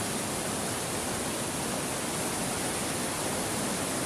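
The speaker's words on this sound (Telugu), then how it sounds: "వాటర్ ఫాల్ అయితే చాలా బాగుంది" Steady, loud broadband roar of water pouring down at the Enapa Theegala waterfall, a dense continuous rush with no pauses and no voices.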